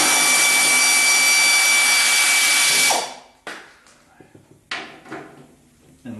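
Bolts come off the gas tank of a 1976 Corvette: a loud, steady whirring power tool runs for about three seconds and then cuts off, followed by a few scattered metallic clicks and clunks close by.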